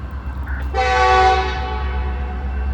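A freight train's horn, likely on a grain train on the old B&O line, sounds a single sustained blast that starts abruptly and fades slightly, heard loud over a steady low rumble, with a somewhat rough, sickly tone.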